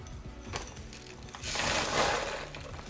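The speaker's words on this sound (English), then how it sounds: "Now I'm going to tip the rock salt into the ice" Rock salt poured into a bowl of ice for making instant vanilla ice cream, a rising gritty rattle and crunch of grains on ice that swells in the middle, heard close with no talking.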